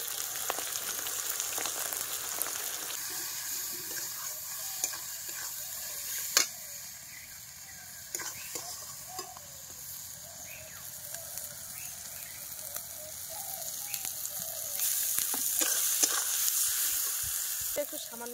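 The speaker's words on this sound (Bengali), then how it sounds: "জলটা দিয়ে মশলাটা ভালো করে কষিয়ে নেব।" Meat curry spices with salt, chilli powder and a splash of water sizzle in a pan, a steady frying hiss with scraping and stirring clicks, growing louder toward the end, with no one talking.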